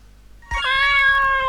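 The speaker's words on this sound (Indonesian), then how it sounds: "Nah, ada suara kucing ya." A single loud, clear cat meow in a video game, rising abruptly and holding its tone for about a second, alone without any talking.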